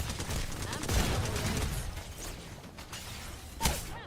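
Gunfire in Apex Legends, a continuous clatter of rapid shots and impacts in a busy firefight, with a sharp loud crack near the end and game voices heard briefly.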